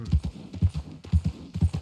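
Horse hooves clip-clop in Red Dead Redemption 2, a steady, close, rhythmic gait of paired thuds repeating about twice a second with no talking.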